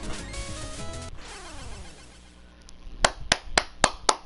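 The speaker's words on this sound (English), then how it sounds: "This is me, this is me clapping." Hand clapping, five sharp, evenly spaced claps close by at the end, following a stretch of game music and sound effects.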